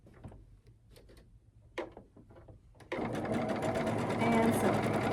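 A sewing machine starts up after a few soft handling clicks and runs at a steady whirring hum while stitching quilt block fabric, the motor sounding close and continuous to the end.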